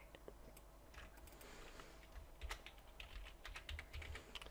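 Keys clatter on a computer keyboard in a steady run of light clicks, close and fairly quiet, with no voice over them.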